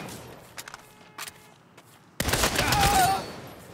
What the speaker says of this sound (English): Stand still while I shoot all of you,